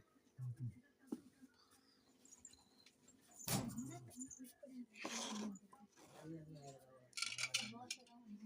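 A kuzhi paniyaram pan and a dosa griddle are handled, giving a few scattered metallic clinks and knocks between quiet gaps while someone talks softly nearby.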